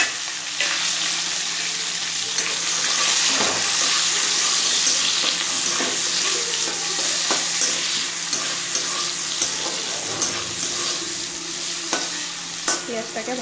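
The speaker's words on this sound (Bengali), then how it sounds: "পেঁয়াজটাকে ভালো করে আগে ভেজে নিই" Chopped onion and garlic, added after cinnamon, fry in hot oil in a pan, a steady close sizzle punctuated by repeated spatula scrapes and stirs, with no voices.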